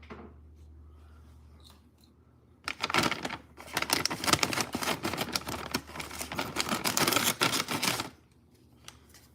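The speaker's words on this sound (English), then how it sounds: "I'm gonna cut this bag open." A plastic food bag is cut open with scissors in a kitchen, giving about five seconds of dense, close crinkling and snipping that stops abruptly.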